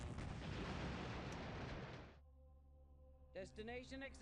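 Units open fire on an enemy base in the strategy game Earth 2150: The Moon Project, a dense roar of artillery blasts for about two seconds before it cuts off to a low hum, then a voice speaks.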